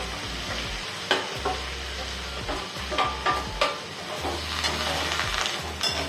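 Okra (bhindi) frying in a pan with turmeric and black masala, a steady close sizzle with intermittent scraping and stirring clinks as the vegetable is turned.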